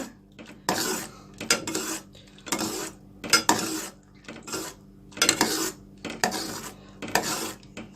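Milk for homemade mango ice cream stirred continuously in a metal pot, a loud rhythmic run of spoon scrapes against the pot in regular strokes about once a second, close and alone.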